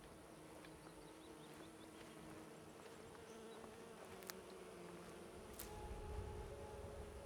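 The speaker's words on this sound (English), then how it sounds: "Oh wow, they are actually bees" Bees buzz in Honey Strand Cave in Skyrim, a faint, continuous droning hum with small fluctuations as insects drift about, set against quiet cave ambience and an occasional soft click.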